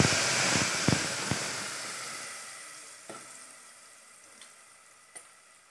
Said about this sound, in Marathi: लसूण आपली लाल झाली आहे, मी आता हे वाटण फोडणीला टाकते.